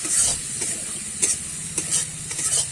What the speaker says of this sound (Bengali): এবারে আমি আর একটু নেড়ে চেড়ে নেব।